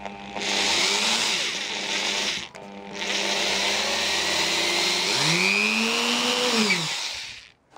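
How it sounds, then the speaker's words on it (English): A power drill bores into a part for a KLR650 motorcycle, whining loudly in two long runs split by a brief pause, its pitch sagging and recovering as the bit bites, with no talking. "Anyway, let's drill."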